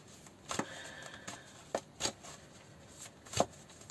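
Tarot cards shuffled in short bursts, several crisp riffling swishes spaced irregularly with quiet pauses between, close and moderately soft, no talking.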